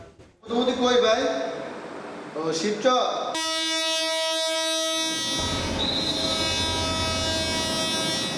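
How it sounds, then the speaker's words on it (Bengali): A train rushing in at high speed sounds a long, loud horn blast with rumbling rail noise after a few seconds of someone talking. "তীব্র গতিতে ছুটে আসছে ট্রেন"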